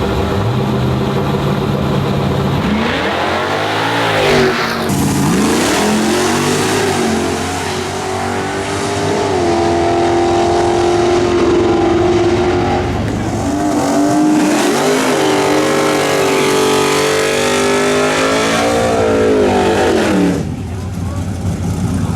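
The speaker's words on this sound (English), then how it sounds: "Justin Lawson in his nitrous LS Camaro going against Rob Collins in his twin-turbo CTS-V" Nitrous LS Camaro and twin-turbo CTS-V at a street-car drag race, engines revving and roaring up through gears in loud rising sweeps, close and continuous, with an announcer talking over the noise.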